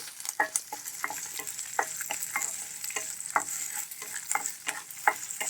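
Tempering spices for a black-eyed pea (bobbarlu) fry crackle in a pan under a steady close sizzle, punctuated by regular scraping strokes of a spoon stirring.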